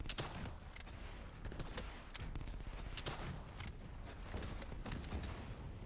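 Rapid gunfire in Call of Duty Black Ops 3, a steady barrage of sharp repeated shots with heavier bursts, sounding distant and faint throughout.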